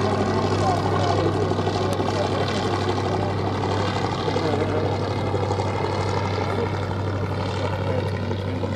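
Propeller aircraft flying past at the Duxford VE Day anniversary air show, a loud continuous engine drone with a steady low hum, heard under a commentator's public-address voice throughout.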